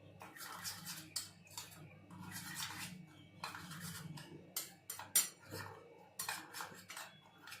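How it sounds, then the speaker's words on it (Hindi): A spoon scrapes and clinks against a bowl while spices such as turmeric, salt and crushed dried fenugreek leaves are mixed, quiet irregular metallic taps and scrapes up close. "तो ये पूरा मसाला मैंने मिक्स कर लिया है।"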